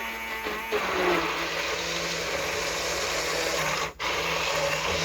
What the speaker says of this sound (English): Just blending it together.